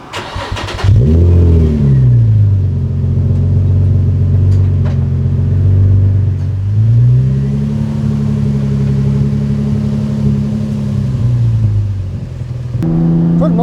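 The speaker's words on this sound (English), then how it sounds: "I think it's time to take it for a spin." A Nissan 350Z drift car's engine starts and idles loud and close, then revs and pulls away in steady rising and falling sweeps for about twelve seconds, with a brief clunk near the end.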